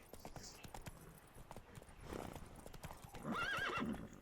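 A horse in the Witcher 3 game clip-clops along a hilly path, its hooves thudding in a steady rhythm. It lets out a whinny near the end, all fairly faint.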